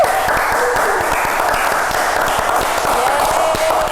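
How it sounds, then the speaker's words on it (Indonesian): Loud, close audience applause at an Indonesian talk on 1950s rock and roll, a sustained dense clatter of clapping hands with a faint voice or tone under it. "Tepuk tangan semuanya."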